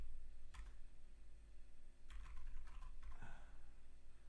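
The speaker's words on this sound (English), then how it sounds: "because my keyboard's at a weird angle now, it's not as easy to type" A computer keyboard sitting at an awkward angle gets typed on in short bursts, a few close clicks separated by pauses, over a quiet steady hum.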